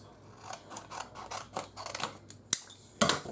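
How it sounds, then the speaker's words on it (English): Scissors snip through smart vinyl for a Cricut Joy sign, a quick run of close crisp cuts followed by two sharper clacks of the blades near the end, with no talking. "Actually, I can go ahead and cut this a little bit smaller."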